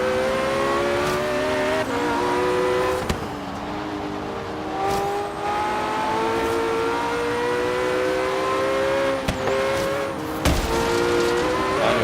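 A race car engine in Forza Horizon 3 whines at high revs, climbing and shifting through gears, with occasional tire squeal and brief bumps, loud and continuous.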